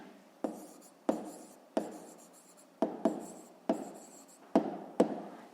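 Pen strokes writing an answer by hand on paper for a 5th-grade maths exercise, eight short scratchy bursts in a steady rhythm, close and fairly quiet, with no talking.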